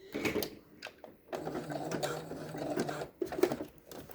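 A sewing machine stitching paracord onto a fabric face mask, short bursts of close, buzzing needle action broken by brief pauses, with no talk.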